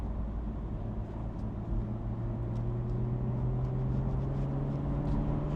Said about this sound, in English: you don't absolutely have to rip to hear the exhaust